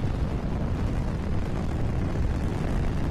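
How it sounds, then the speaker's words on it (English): A rocket lifts off in Kerbal Space Program, a loud, continuous, dense engine roar with heavy low rumble that holds steady throughout, with no talk. "There we go, rocket takes off beautifully skywards"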